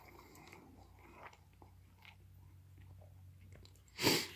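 Someone chews Chinese ration fried rice with meat, producing soft, close mouth noises that end in a louder, brief crunching bite.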